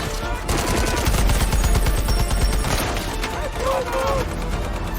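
Gunfire in a film shootout: rapid bursts of automatic weapon fire, loud and dense, with scattered single shots, heavy impacts and mechanical clatter, under a voice speaking throughout.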